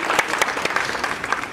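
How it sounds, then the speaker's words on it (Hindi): A short burst of loud clapping echoes through a large hall at a nationalist convention, with distinct sharp claps standing out from the crowd. "जोरदार तालियां, तालियों की गूंज"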